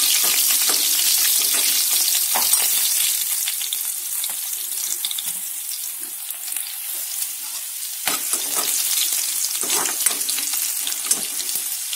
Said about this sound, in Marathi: मोहरी चांगलं तडतडू द्यायचं. जिरं मोहरी चांगलं झालं की यात त्या चिरलेल्या मिरच्या टाकायच्या.